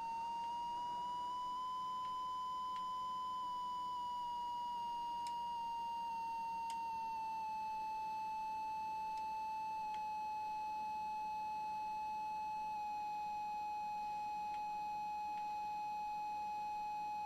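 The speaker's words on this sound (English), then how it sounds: "Why exactly are we beeping?" A glider flight simulator game sounds a warning: a steady, fairly quiet electronic tone holds on without a break against a faint hiss.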